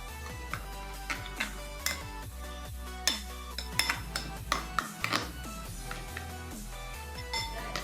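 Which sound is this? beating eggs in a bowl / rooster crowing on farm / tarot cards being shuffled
beating eggs in a bowl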